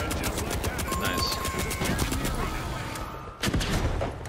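Automated turret fire in the shooter game The Finals, a rapid string of loud close shots in steady rhythm, closing with a heavier burst, while a player talks over the fire.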